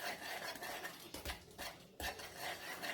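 Banana bread batter is mixed in a bowl, producing faint, close scraping and stirring strokes with light utensil clinks against the bowl.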